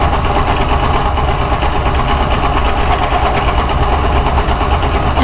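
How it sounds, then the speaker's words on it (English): A sewing machine runs steadily while stitching two straight lines for a ruffle, giving a loud, continuous rapid mechanical whir with even rhythm throughout and no talk. "So I'm sewing 2 straight lines of stitching."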